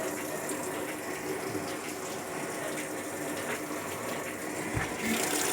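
Water rushes steadily into a Sharp ES-F69 top-loading washing machine that has a fault where it will not spin dry, a continuous close gushing hiss that swells slightly toward the end.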